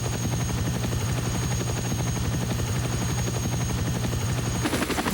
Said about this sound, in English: I ran off to the helicopter.